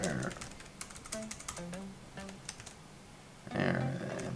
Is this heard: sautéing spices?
no